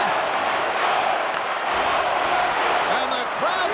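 Dense, loud crowd roar fills a hockey arena during a game, a steady wall of cheering and noise with faint commentary voices blended underneath.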